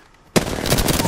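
After a brief hush, video game gunfire erupts in a sharp, loud burst of rapid automatic shots that keeps rattling steadily.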